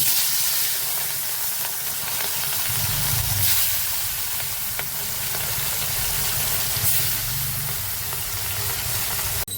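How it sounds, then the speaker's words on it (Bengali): Oil heating in a kadai for frying salted, turmeric-rubbed rui fish gives a steady, even sizzle and hiss that holds throughout, with no talking. "কড়াইতে তেল গরম হচ্ছে, আর মাছটাকে ভাজা করব"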